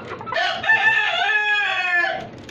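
A domestic chicken in a caged backyard farm gives one clear, loud crow rising and holding before trailing off, close by and alone.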